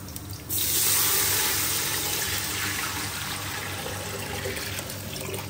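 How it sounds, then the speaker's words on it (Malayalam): Water pouring steadily into a pot of Kerala-style mutton biryani, a continuous rushing splash that starts abruptly and holds for several seconds, close and alone. "അതിലേക്ക് വെള്ളം ചേർക്കുകയാണ്"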